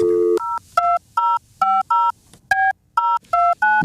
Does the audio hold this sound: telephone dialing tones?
yes